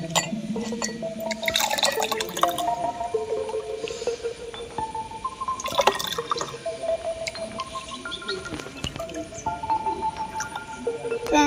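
Freshly made homemade passion fruit juice poured into a glass, a bubbly liquid trickle with scattered drips and glassy clinks, close and moderately loud with no talking.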